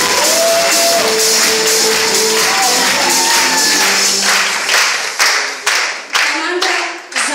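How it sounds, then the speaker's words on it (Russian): Audience applause at a team competition in Strasbourg, loud dense clapping that thins into scattered individual claps toward the end, with some voices underneath. "Ваши аплодисменты."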